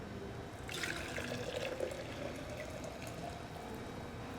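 Steeped tea poured into a jar for kombucha, a soft, steady trickle and splash lasting a few seconds, faint and close with no talking.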